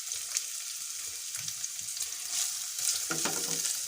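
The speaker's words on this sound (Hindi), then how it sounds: "फ्राई करेंगे इसे।" Green garlic and green chili fry in a tablespoon of ghee, a soft close crackling sizzle with a few stirring scrapes and a brief louder burst near the end.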